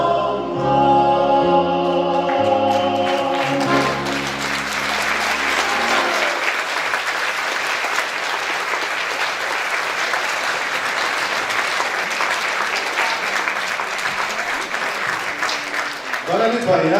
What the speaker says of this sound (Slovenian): tale aplavz je bil namenjen ne samo nam, ampak tudi vam